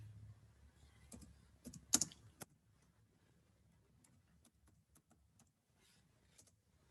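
Typing a name on a computer keyboard, quiet close key clicks in short uneven bursts, with a few louder clacks early on, then sparse soft taps over near silence.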